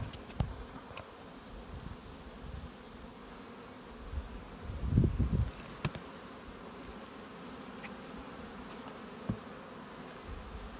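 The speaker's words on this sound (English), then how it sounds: "you see lots of bees down in that cavity" A dense, steady buzz of many honey bees hums close by in a hive, with a few louder thumps and bumps partway through.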